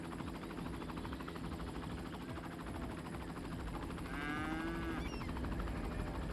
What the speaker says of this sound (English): I heard a cow. Heard another cow.